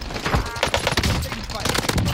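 Rapid bursts of video game gunfire crackle in dense, irregular volleys throughout, with voices talking over them.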